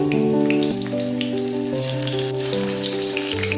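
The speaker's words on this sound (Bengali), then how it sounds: "কড়াতে তেল দিয়ে দিলাম তেলটি গরম হতে কড়াইয়ের মধ্যে ধীরে ধীরে মেখে রাখা পনির ব্যাটারটা ছাড়লাম" Paneer batter pakoras fry in hot oil in a wok, giving a continuous bright sizzle under steady, tonal background music, with no speech.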